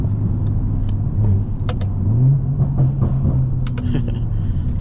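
A stage 2 tuned BMW M340 with downpipe, charge pipe and a CTS turbo accelerates hard at night, its engine droning loudly and rising in pitch through the gears with clicks and jangles from the cabin.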